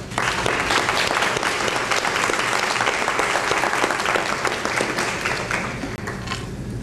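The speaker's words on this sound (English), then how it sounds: "receive a round of applause" Guests at the 64th annual co-op banquet, held in May 2007, give a full round of applause. The clapping is loud and sustained and eases off slightly near the end.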